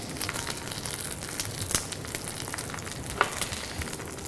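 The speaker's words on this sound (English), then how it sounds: "So basically that just gets gently fried." Blanched witlof with sugar fries gently in butter, giving a steady, close sizzle with soft crackles and occasional pops throughout.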